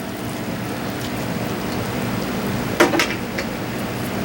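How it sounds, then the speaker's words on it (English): Water from a light watering pours onto very dry potting mix planted with ginger and turmeric, giving a steady soft splashing wash with one brief clatter near the end. "And we'll give this a light watering because that potting mix is unbelievably dry"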